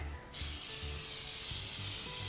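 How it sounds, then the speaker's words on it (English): A short hiss of an olive oil spray bursts on and holds steady over a hot pan, over a low intermittent rumbling hum. "I have an olive oil spray here"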